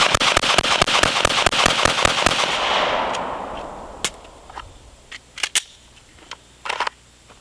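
Rapid handgun shots fired from the hip at close range, a fast string of sharp cracks in the first few seconds followed by a handful of scattered single shots, loud and without talk.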